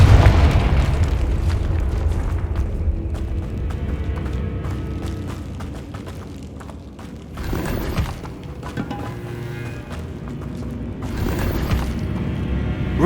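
Two fiery Confringo spell blasts in the Hogwarts Legacy video game, each a loud, broad burst of booming noise rising over a continuous rumbling game soundtrack, a few seconds apart.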